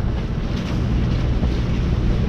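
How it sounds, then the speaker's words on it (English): Wind buffets a sailboat at sea off St. John in the U.S. Virgin Islands, a loud, continuous rushing roar with heavy low-end gusting and no voices. "here comes the wind"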